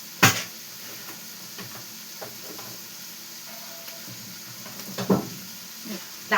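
Oil sizzles in a pan while freshwater crabs cook, a soft steady hiss broken by a few sharp clanks of a utensil against the pot; a voice speaks briefly.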